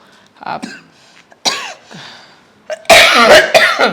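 Several coughs and throat-clearing bursts from one nearby man with a cold, ending in a loud, harsh cough.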